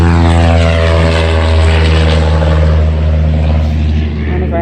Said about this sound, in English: One of our neighbors up the river has a float plane.